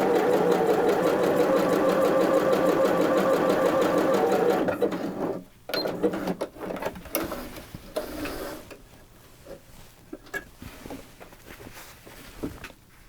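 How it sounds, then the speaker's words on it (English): A domestic sewing machine runs steadily at full speed for about four seconds, then falls to intermittent short bursts and clicks as the stitching stops and the machine is adjusted. "And off it goes quite merrily."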